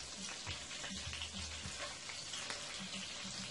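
Butter fish lays into a hot buttered pan and sears with a soft, steady sizzle and scattered light pops, close and quiet with no one talking.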